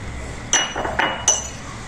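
A spoon clinks against a glass or pot while stirring two spoons of sugar into milk: three bright, close chinks within about a second, over a low background hum.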